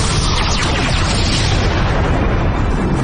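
Huge sustained blast from a big cannon firing in Power Rangers Super Samurai, a dense roaring wall of explosive noise filling the whole stretch without letting up, with no voices.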